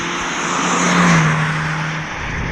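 From inside a 2013 Hyundai Genesis Coupe 2.0T R-Spec, the turbocharged engine revs up in a brief rising whine, then the revs hang and slowly fall away under steady road and wind noise.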